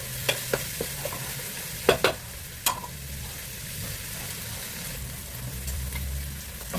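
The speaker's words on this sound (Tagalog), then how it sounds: "Haluin lang natin, mix-mix lang. Para hindi masunog." Palabok sauce stirred in a pan with fish sauce, a quiet soft scraping and gentle sizzle throughout, with a few sharp utensil clicks against the pan early on, no talking.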